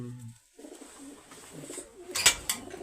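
Racing pigeons of a prized Punjabi breed give a brief low coo at the start, followed by quiet rustling and a couple of sharp clicks nearby.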